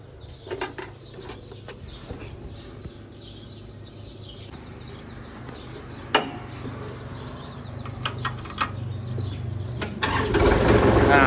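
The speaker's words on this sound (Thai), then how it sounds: "เดี๋ยวเรามาฟังเสียงเครื่องกันเลยครับ" A Kubota L3008 tractor engine cranks and starts outdoors, building to a steady loud running rumble toward the end, with birds chirping in the background and scattered clicks before the start.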